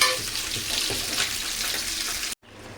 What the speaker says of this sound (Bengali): শাকের জন্য ইলিশ মাছের মুড়ো দুটো দিয়ে মশলাটা কষিয়ে নিচ্ছি আগে